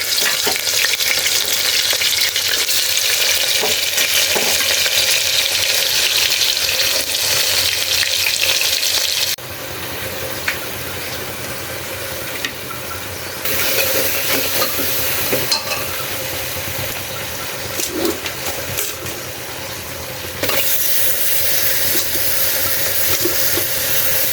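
Beef pieces sizzling in a pan on a stove, a steady, loud frying hiss that runs throughout with occasional stirring scrapes and small shifts in level, with no talking.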